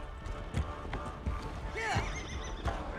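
Horse hooves clop in rhythmic beats as a rider travels in Assassin's Creed Valhalla, with a horse whinny rising midway and game voices and music continuing over the hoofbeats.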